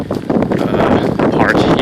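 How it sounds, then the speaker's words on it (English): Strong wind buffets the microphone outdoors among momiji trees, a loud rough rumble with gusty swells that continues without letup over a short stretch. "it's really windy"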